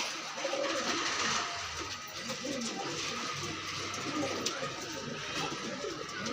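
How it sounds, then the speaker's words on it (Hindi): Desi pigeons coo softly at a bird sale among ambient street noise, steady low murmurs close by. "देसी कबूतर है भाई ये भी साला 4 है।"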